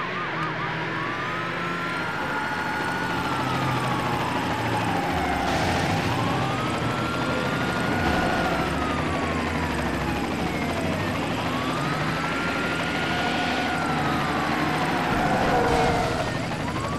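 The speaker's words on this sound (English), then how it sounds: "the helicopter is airborne." Wailing police sirens sweep up and down continuously over a steady engine and rotor drone during a police pursuit in the PS2 racing game Need for Speed: Hot Pursuit 2, loud and unbroken, with faint radio chatter beneath.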